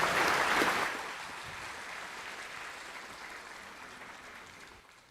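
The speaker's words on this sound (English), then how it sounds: "Please, let's give her a loud and clear applause." Audience applause at a women's conference in Chuuk State, strongest in the first second, then thinning into a softer, fading patter of scattered clapping that dwindles toward near silence by the end.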